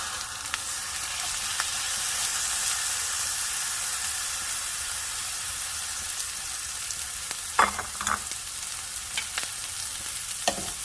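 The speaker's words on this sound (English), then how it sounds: "I'm gonna add a little bit of cooking oil, and I'm going in with my rice that I pre-rinsed" Pre-rinsed rice fries in a little cooking oil in a preheated pan, giving a steady bright sizzle with occasional louder crackles and spoon scrapes as it is stirred.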